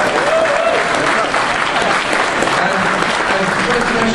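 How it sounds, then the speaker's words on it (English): Sustained audience applause fills a convention hall at a Red Dwarf fan event, loud and dense throughout with a crowd of many hands clapping steadily and no break. "A big round of applause for the first dimension jumpers."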